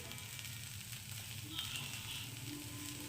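Potatoes frying in a pan while cooking pui leaves, a quiet, continuous sizzle with a soft hiss and light crackles throughout.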